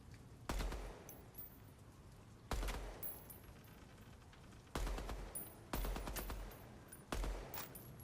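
Full-auto weapon fire in the shooter game DEADROP, five separate bursts of rapid gunfire, each punchy and followed by a lingering tail, with no voices between them.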